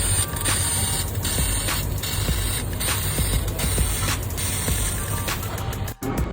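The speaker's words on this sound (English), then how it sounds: "This powerful laser cuts through a steel sheet with incredible precision." A laser cutter slices through steel sheet with a loud, steady mechanical whir and hiss, carrying faint rhythmic ticks and a brief dropout near the end.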